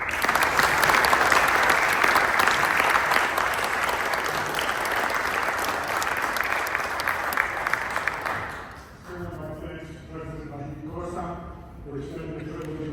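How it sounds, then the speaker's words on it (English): Loud, dense audience applause fills a ceremony at Los Angeles City Hall for a maestro who performed music, steady for about nine seconds before thinning out as a voice begins speaking over the fading claps. "Please join me if we could afford him another round of applause for bringing such rich and beautiful music"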